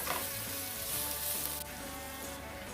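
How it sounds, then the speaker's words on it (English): Garlic sautés in oil in a pan over a low stove for Jamaican ackee and saltfish, a continuous close sizzle with soft crackling and a faint hum beneath, no voices. "I'm going to start by sauteing my garlic"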